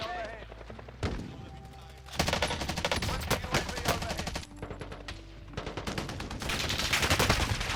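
Rapid bursts of automatic gunfire in the Warzone video game's Payload event, loud and close, with dense volleys in several separate runs and brief pauses between them, over a steady low game background.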